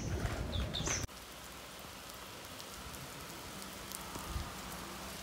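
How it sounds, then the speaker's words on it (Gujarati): Rain pouring steadily outdoors near a cow shelter, a soft even patter that continues throughout after a brief louder opening sound. "વરસાદ પડી રહ્યો અત્યારે."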